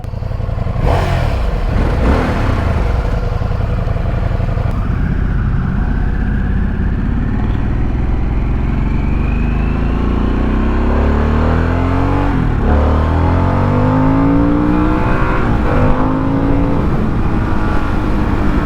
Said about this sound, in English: I'm barely pulling the accelerator. This is not your grandfather's Harley.